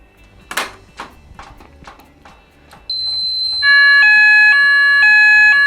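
Fire alarm during a weekly system test: a few knocks and bumps, then a steady high electronic tone that switches into a loud, repeating two-tone alarm pattern held to the end.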